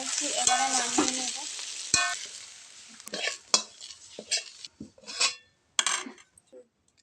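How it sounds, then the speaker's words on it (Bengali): Okra and potato pieces frying in oil for a Bengali posto bhindi curry. A brief bright sizzle opens, then a spatula stirs and scrapes against the pan in separate clattering strokes, with pauses between them. "আলুটাকে লাল করে ভেজে নেব।"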